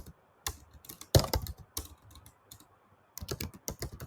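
Typing on a computer keyboard, entering a web address, as rapid close clicking in uneven bursts with brief gaps and a longer pause midway.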